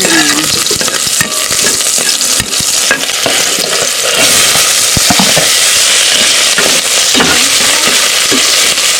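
Garlic and onion sauté in a hot pan with a loud, dense, continuous sizzle and crackle, close up, broken by scattered clicks of a spoon against the pan and no talk.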